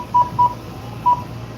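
Three short, clear push-button tones from a phone keypad as a number is entered, two in quick succession and a third after a pause, loud over a low background hum.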